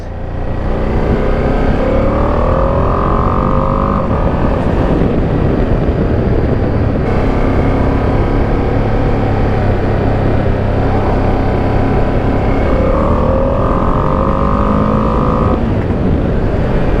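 A 2025 Ducati Panigale V2S with its stock 895cc twin engine and twin exhaust pulls hard through the gears, rising and shifting repeatedly in a loud, continuous sweep with no talk over it.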